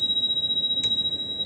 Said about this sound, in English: We want to use a bell for people,